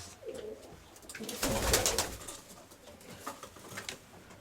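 February-hatched young pigeons give soft cooing calls up close, with a brief burst of rustling flutter in the middle and a few scattered light taps.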